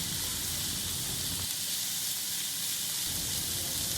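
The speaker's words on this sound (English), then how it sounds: "keeping the flame on medium, we will saute the sausages and the veggies for at least 2 minutes" Sausages and mixed vegetables sauté in a pan over medium flame, giving a loud, continuous sizzling hiss that stays even throughout with no talking.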